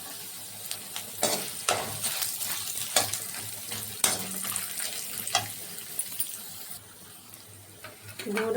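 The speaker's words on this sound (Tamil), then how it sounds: "இதெல்லாம் சேர்த்து முதல்ல எண்ணெயில் வதக்கிக்கலாம்" Whole spices such as pepper, cinnamon and bay leaf sauté in hot oil for a goat intestine curry, a steady sizzle broken by stirring clatters and sharp metallic taps close by, with no talk.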